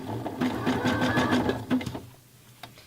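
A sewing machine running a 3-step zigzag stitch while attaching elastic to a lace bra whirs in a rapid, steady close-up burst for about two seconds, then stops, leaving a few faint clicks.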